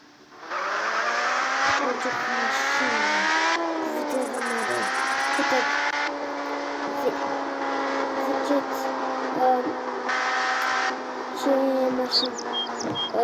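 Racing car engine in a video game, revving steadily with rising and falling pitch through gear shifts, harsh and continuous for the whole stretch, with occasional brief screeches and bursts layered on top.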